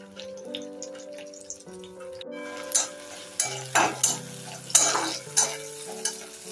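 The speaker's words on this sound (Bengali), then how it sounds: "কাঁচা লঙ্কা, পাকা লঙ্কা কুচিটাও মিশিয়ে নেব, ভেজে নেব একটু হালকা করে।" Onion with chopped green and red chillies being stirred and lightly fried in a pan, with soft sizzling and repeated scraping strokes of a spatula over a low background tone.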